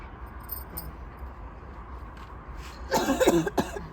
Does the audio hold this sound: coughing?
yes